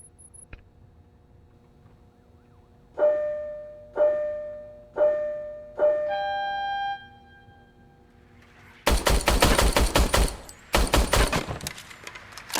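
Service weapon gunfire in a Robocop video game: four evenly spaced sharp shots with ringing tails, then a dense burst of rapid automatic fire in two loud clusters, with no talk.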